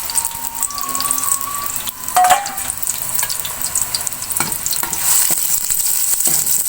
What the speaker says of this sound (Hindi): प्याज को लाइट ब्राउन कर लेंगे।